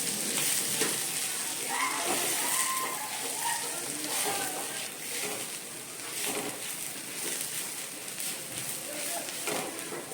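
Shredded cabbage frying in a pan as fresh grated coconut is stirred through it, giving a steady soft sizzle with scraping and stirring noises throughout, no voices.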